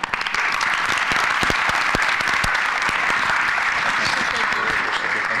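A town hall meeting audience applauds in a dense, continuous wash of clapping that holds steady and loud from start to finish.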